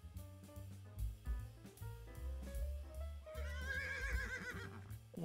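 Horse in the video game Animal Training Simulator, a quiet whinny heard over faint game music and low thuds.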